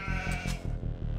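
Sheep in the Age of Empires 2 strategy game bleating, a few clear calls in succession, prominent and close with no talk.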